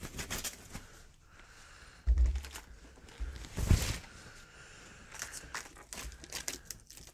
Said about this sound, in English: Take it out of the plastic sleeve and see what is inside.